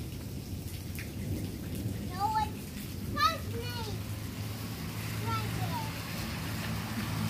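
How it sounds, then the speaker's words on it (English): Thunder rumbles low and steady through a rainstorm, with rain hissing throughout and children's voices chattering faintly over it. "The thunder's picking up."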